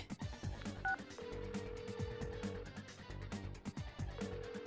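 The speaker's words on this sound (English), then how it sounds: "I quickly hit the call button." A mobile phone in the Persona 4 Arena Ultimax video game dials with a series of clean DTMF tone beeps and sustained pitched tones, over a rhythmic background music track with soft percussive hits.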